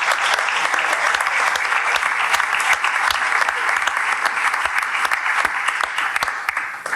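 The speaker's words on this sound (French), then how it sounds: "Merci pour lui, une belle ovation" Sustained applause from a large audience at a bullfighting event announcement, dense continuous clapping filling the room with no pauses and no speech over it.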